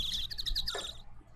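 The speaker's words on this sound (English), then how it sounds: "Nice bird sound." Bird chirping sound effect in an Ace Attorney video game, a quick run of bright, repeated tweets followed by a short lower call, clear and close over a faint background hum.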